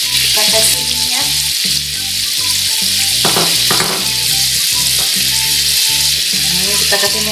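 Cooking oil sizzles loudly and steadily in a frying pan, with a rhythmic pulsing texture and brief clinks from a utensil partway through, and no talking.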